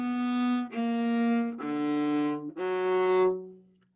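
A solo viola plays four slow, separate bowed notes from an excerpt of The Gnome, each note sustained and richly resonant. The playing is close and clear, with the last note fading out.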